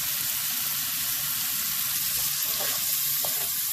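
Ham sizzles and fries steadily in a hot pan, a continuous close hiss of crackling fat with no voices over it.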